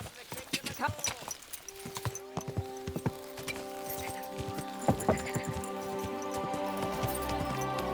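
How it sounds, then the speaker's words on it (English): Horse hooves clop in a quick irregular rhythm, close by, in a video game, then give way to a sustained droning tone and rising noise. "Get that horse under control."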